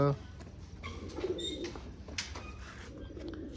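Pigeons coo softly in a loft, low throaty murmurs repeating in short bursts at a faint, moderate distance, with a voice talking over them.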